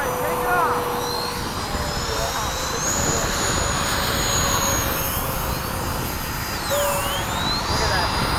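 Radio-controlled Freewing 90mm F-22 and 80mm F-14 electric ducted-fan model jets whine steadily overhead at a flying field, pitch sliding as they pass, with loud wind-like roar and people talking.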